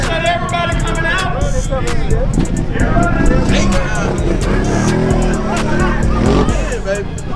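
Race trucks at a drag-strip grudge race event, loud continuous engine roar with squealing tires and revving, a crowd's babble and voices over a busy, dense noise throughout.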